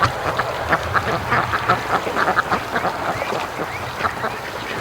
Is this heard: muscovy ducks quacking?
yes